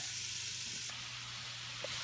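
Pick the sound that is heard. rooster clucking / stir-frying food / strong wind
stir-frying food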